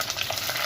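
Green chilies crackling and sizzling in hot oil while tempering for a village-style prawn curry, a brief dense spitting hiss up close with a few sharper pops.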